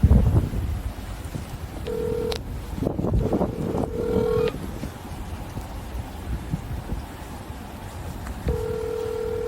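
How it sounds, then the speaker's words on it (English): A telephone is dialed outdoors to call a supervisor during a roadside identification stop: short tones and a longer steady tone sound over gusty wind noise on the microphone, with no talking. "I'll call a supervisor and see if he can contact me by phone."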